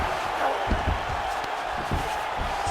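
A virtual arena crowd in the EA Sports UFC 5 fighting game roars and murmurs steadily under the action, a broad wash of cheering with a few dull thuds from the fight.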